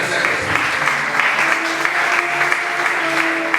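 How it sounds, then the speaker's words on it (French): A church congregation applauding, a dense, steady wash of many hands clapping throughout, loud and close, with faint voices mixed in beneath. "Est-ce qu'on peut acclamer le Saint-Esprit?"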